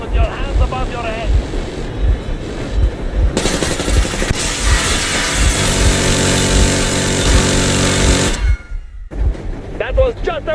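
Machine gun warning shots in the Metro Exodus video game come as a loud, dense burst of rapid fire lasting several seconds, then cut off abruptly, with speech before and after.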